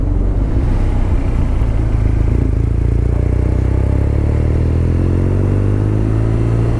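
BMW R nineT Scrambler engine running loud and close, a steady deep throbbing rumble with a slowly rising tone toward the end.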